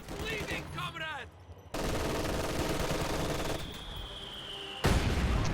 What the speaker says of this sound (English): Heavy mortar working on the machine gun.